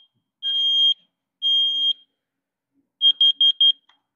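A smoke alarm inside a van sounds loud, clear beeps: two longer tones, a pause, then four quick short chirps, with no talking over them.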